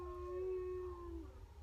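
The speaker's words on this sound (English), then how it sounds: "When the train goes by, my dogs always sing." Dogs howl in long, sliding wails as a train passes, the rising and falling tones close and steady over a low rumble from the passing train.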